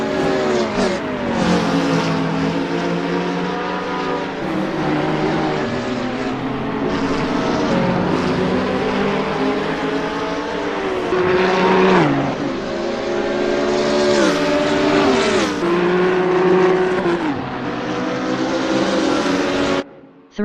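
GT3 race cars, including a Ferrari 488 GT3, screaming around Brands Hatch GP in a racing game, with engines revving up and down through gear changes in a continuous loud drone.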